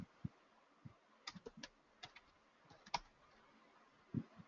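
A computer keyboard being typed on during a Java programming lesson at the command line, giving a short run of irregular, quiet clicks and key taps spread over a few seconds, close by and with no talk.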